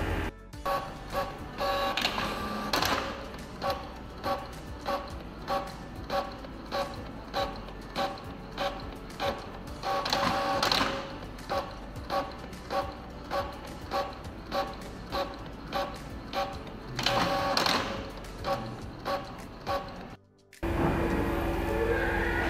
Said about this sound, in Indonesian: Selanjutnya form ini kita cetak.